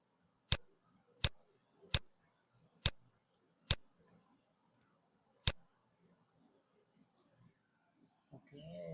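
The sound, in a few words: mouse clicking buttons in Power BI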